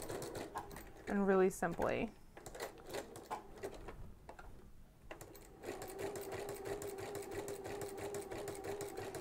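A sewing machine fitted with a walking foot stitches in fast bursts, a quick start early on, then a steady running stitch over the last few seconds, with a voice talking briefly over it.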